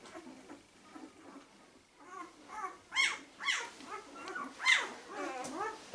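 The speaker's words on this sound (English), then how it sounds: "Why do we have these puppies far more vocal?" Young Berger Blanc puppies whimper, squeal and yelp as they are picked up, a close run of rising, wavering cries that grows louder and more frequent toward the end.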